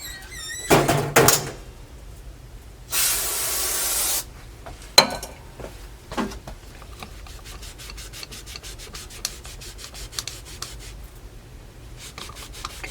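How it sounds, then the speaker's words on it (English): Brake cleaner hisses from a spray can onto Suzuki TC 185 dirt bike engine parts in one long close burst, with scraping and rubbing sounds before and after. "let me get some brake cleaner"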